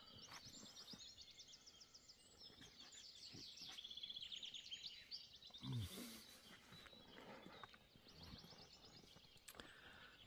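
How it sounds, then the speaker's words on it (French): Small birds sing at dawn beside the cliffs of the Causse Méjean, a steady stream of high chirps and twittering trills over light outdoor rustle, with a brief louder bump near the middle. "Je vous laisse écouter les petits oiseaux"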